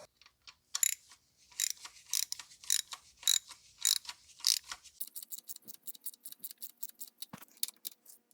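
A ratchet wrench tightening a spark plug on a 2016 BMW M235i, with steady runs of close, sharp clicking strokes that shift partway through into a faster, evenly spaced string of ratchet clicks.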